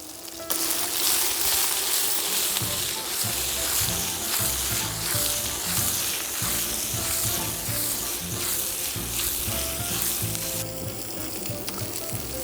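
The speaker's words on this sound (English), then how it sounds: "once your meatballs will be seared off" Meatballs searing in oil in a pan, giving a loud, steady, close sizzle and crackle that runs unbroken for the whole stretch, with no talking.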